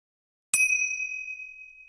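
A single bell struck once, giving a bright metallic ding that rings on with a clear sustained tone and slowly fades, alone in silence.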